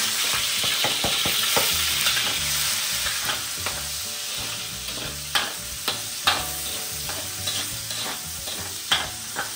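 Onion and garlic fry together in a pan for Filipino ground beef, a steady loud sizzle broken by repeated scraping stirs, close and continuous with no talking.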